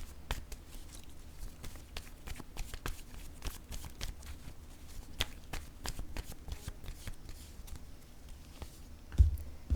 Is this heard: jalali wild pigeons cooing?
no